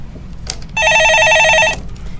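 A telephone rings on a stock-market phone-in show: one clear electronic ring, about a second long, with bright buzzing tones against a quiet studio background.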